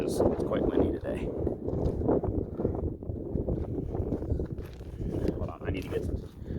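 Steady outdoor wind buffeting the microphone, a constant rumbling roar with gusts rising and falling throughout.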